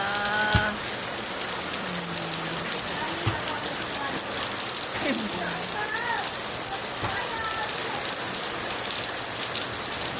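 Steady rain pours down on a surface in the Philippines, a dense continuous hiss with faint distant voices and bird calls underneath.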